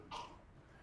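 A single short sneeze rings out in a lecture hall, brief and fairly faint against the room's quiet background.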